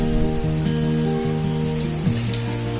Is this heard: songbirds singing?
no